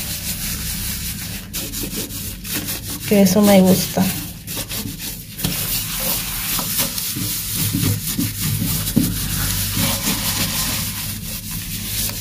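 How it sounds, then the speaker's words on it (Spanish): A damp sponge scrubs a bathroom sink in rough, irregular rubbing strokes, with a brief spoken remark partway through. "Ya aquí tengo la esponja húmeda y lo vamos a comenzar a tallar"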